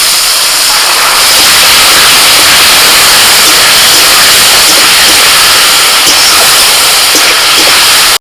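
Loud, steady sizzling hiss rises as a little water is poured into chopped tomato masala in a hot pan, continuing evenly throughout before cutting off abruptly at the end.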